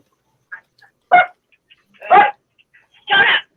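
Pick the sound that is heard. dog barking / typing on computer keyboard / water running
dog barking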